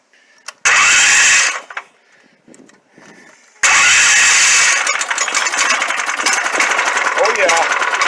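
Predator 301 engine on a Trailmaster MB200 mini bike, heard in a short first cranking attempt, a pause with handling noises, then a loud close start that settles into a steady, rough idle.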